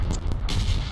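Red zone bombardment in PUBG Mobile: a short burst of loud, rumbling booms and crackling blasts in quick succession, with no speech.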